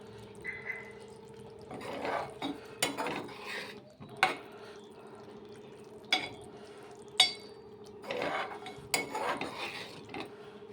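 A spoon stirs coriander into a dried fish and tomato curry in a pan, giving intermittent scraping and clinking strokes close up over a low steady hum.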